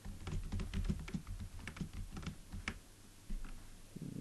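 A computer keyboard clatters under quick bursts of typing, with close, crisp keystrokes coming in uneven runs and short pauses, while PHP code is entered.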